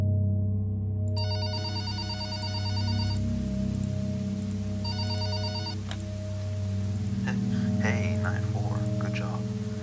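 A telephone rings in the Five Nights With Mac Tonight video game, two bursts of electronic ringing over a low steady hum, followed by someone speaking.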